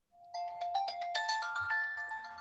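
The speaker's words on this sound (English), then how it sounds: "Somebody turn off the phone, please." A phone ringtone plays, a bright synthetic melody of quick chiming notes that builds into a louder sustained chord. It sounds at moderate volume in a quiet room and no one is speaking over it.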